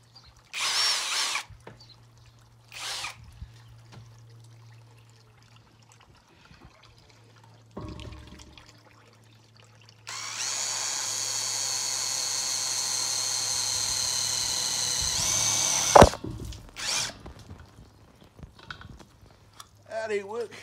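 A power drill bores into a steel propane tank with a busted valve: short whirring bursts and clunks at first, then one sustained, loud stretch of drilling ending in a sharp knock, with quiet pauses between.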